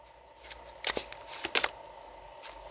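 Oracle cards are handled and laid out on a table, giving soft rustles and a few quick crisp slaps and shuffles that cluster in two short bursts over a quiet background.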